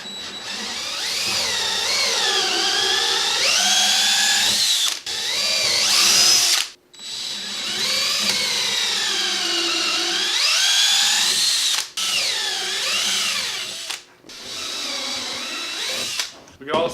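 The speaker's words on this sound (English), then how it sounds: "On the other one, do you want to try drilling it out?" A power drill whines in long, pitch-shifting runs as it bores out a hole in a 3D printed bracket, stopping briefly several times before starting again, up close and loud.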